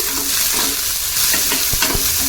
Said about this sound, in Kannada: ಎಣ್ಣೆ ಹಾಕಿ ಚೆನ್ನಾಗಿ ಒಂದು ನಾಲ್ಕರಿಂದ ಐದು ನಿಮಿಷ ಫ್ರೈ ಮಾಡ್ಕೋಬೇಕು ಇದನ್ನು